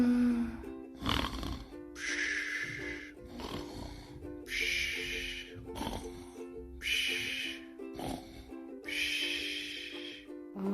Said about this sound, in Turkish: Horladı bile.